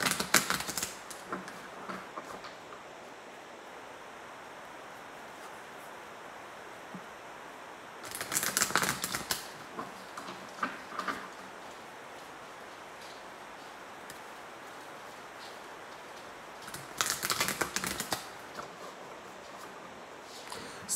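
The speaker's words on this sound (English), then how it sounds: "So let me shuffle your cards really quick" Tarot cards shuffled in two short bursts of rapid flicking, separated by long stretches of quiet room tone; close and fairly soft, with no talking.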